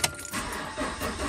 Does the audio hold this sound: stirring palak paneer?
no